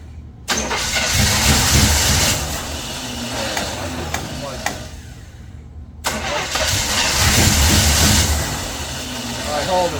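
A 1976 Chevrolet El Camino engine cranks and catches, roars loudly, cuts out abruptly, then fires up and runs again before fading, with voices faintly mixed in.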